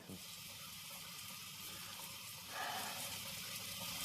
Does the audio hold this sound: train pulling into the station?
no